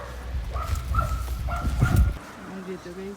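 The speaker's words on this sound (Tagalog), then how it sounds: "May aso pala dito, guys." A dog barks in a quick series of short yips and barks under someone talking, at a market in Israel, fairly close and moderately loud.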